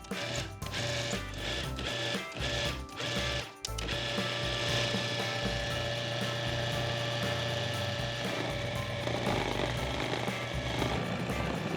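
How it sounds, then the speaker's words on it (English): Food processor pulsing graham cracker dough in a few short bursts, then running at full speed in a steady loud whirring churn with a low rumbling rattle, nearby and without talk. "I can turn the food processor on full speed to bring the dough together"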